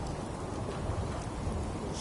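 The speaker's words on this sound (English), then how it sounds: "Damn rain is soaking right through me clothes." Steady rain hisses in the Fallout 4 wasteland, a dense, even wash of falling drops with a low rumble beneath, continuous and fairly close throughout.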